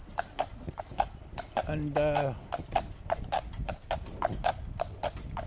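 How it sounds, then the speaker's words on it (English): A four-year-old Shire horse in an open bridle walks along a road, its hooves clip-clopping in a steady, even rhythm close by, while someone talks over the footsteps. "this is a 4-year-old horse, just had its 4th birthday, just, yeah, and it's going along as happy as can be"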